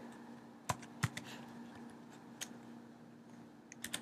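Keys tapped on a computer keyboard in a quiet room, a few sharp isolated clicks spaced irregularly, with a faint steady hum underneath and no voices.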